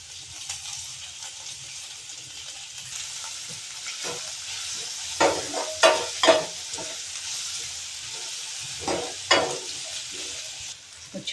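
Peas and green chilies fry in a pan for a veg sandwich filling, giving a steady sizzling hiss throughout, with occasional louder stirring clatters and scrapes of a spoon against the pan.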